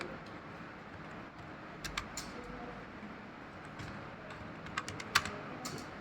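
Keys clack on a computer keyboard in sparse, quiet bursts of taps over a faint steady background hiss, with no talking.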